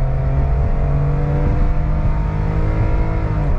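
A Suzuki Wagon R kei car's small engine drones and climbs steadily under full throttle while driving at speed, a continuous strained hum heard from inside the cabin with road noise beneath.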